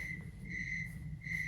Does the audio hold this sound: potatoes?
no